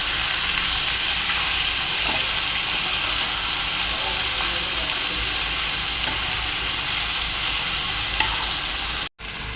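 Potatoes fry in a pan while being stirred, making a steady, loud, close sizzle with faint hissing steam that runs without a break until a brief cutoff near the end.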